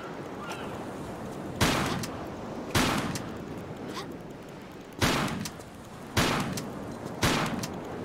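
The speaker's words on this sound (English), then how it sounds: "Shotgun." Five heavy shotgun blasts in a Tomb Raider Level Editor beach level at Port Royal, each loud sharp crack spaced a second or two apart over a steady wash of surf-like background noise.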